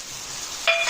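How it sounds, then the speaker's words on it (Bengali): A spice masala of ground spices sautéing with a splash of water for Bengali dom chicken, giving a steady soft sizzle that brightens and intensifies near the end, heard alone and close. "এখন এটাকে আমি কষাতে দেবো"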